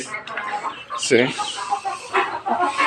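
Small caged quails make short clucking and chirping calls, including one sharper call, close by and moderately loud over a steady background hiss.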